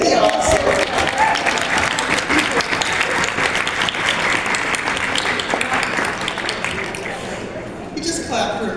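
Sustained audience applause from a crowd at a speaking event, loud and dense clapping that carries steadily for several seconds before tapering off near the end.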